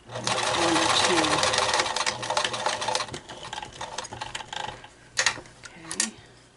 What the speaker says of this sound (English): So I'm actually sewing probably a 1/4 inch away from the outside edge